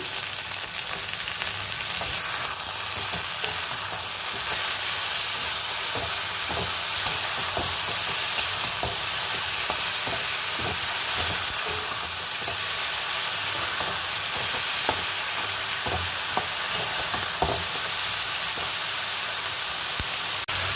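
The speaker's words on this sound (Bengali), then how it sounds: "সবজিটা একটু লাল লাল করে ভাজা হয়ে গেলে তারপর আমি মশলা দিয়ে দেবো" Vegetables fry with small mourala fish in a pan, a loud constant sizzle and hiss punctuated by frequent spatula scrapes and taps, close and continuous throughout.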